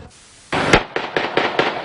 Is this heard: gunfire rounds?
yes